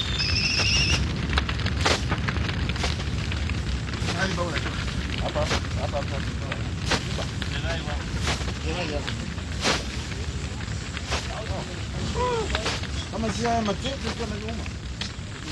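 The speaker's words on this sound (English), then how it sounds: "for Africa's grasslands, the flames are something of a cleansing agent" Grassland fire burning across the plains of Ngorongoro in Africa: a steady, loud broadband roar with scattered crackles and pops running throughout.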